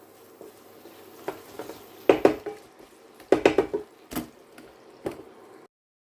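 A utensil scraping and clanking in a pan while mixing capsicum and baby sweet corn for pineapple chicken, a few sharp metallic knocks and stirring scrapes, close and irregular.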